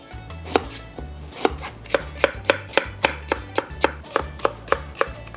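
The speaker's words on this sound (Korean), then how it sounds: "무 한 토막 200g을 무채 썰어서 준비할 텐데요" A knife chops a 200 g piece of radish into julienne strips on a cutting board, sharp regular knocks about twice a second, close and clear with no talk.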